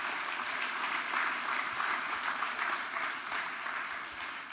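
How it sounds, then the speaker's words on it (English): Steady, sustained applause from an audience at a regional healthcare innovation awards ceremony, dense clapping at even volume throughout. "if we could just all give a round of applause really for the Academic Health Science Network"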